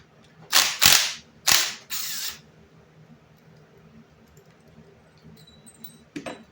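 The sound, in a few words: removing half-inch bolts and lock tabs from Ford 9-inch rear end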